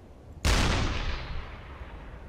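A submarine deck gun in UBOAT fires a single sharp, booming shot at a burning ship, the crack followed by a long, fading rolling echo over open water.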